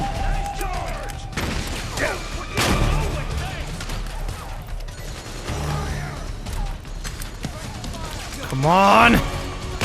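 Gunfire in the video game Metal Gear Solid 4: Guns of the Patriots, with scattered sharp shots and bursts mixed with mechanical clatter and booms, mostly under someone talking, and a rising whine near the end.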